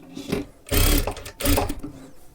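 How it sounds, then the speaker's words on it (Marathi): A sewing machine double-stitches a folded edge on a matka neck blouse in two loud, close bursts of rapid needle clatter separated by short pauses. "परत एकदा अशा पद्धतीने आपल्याला घडी करून डबल शिलाई मारून घ्यायची आहे इथे"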